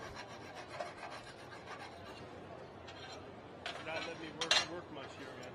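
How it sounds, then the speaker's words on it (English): Hand file rasping burrs from the inside of a metal tube in a custom fabrication garage, a steady scraping rub with a few louder strokes near the end, with faint talk in the background. "That's where you would end up having a good set of files, and get all the burrs out of there."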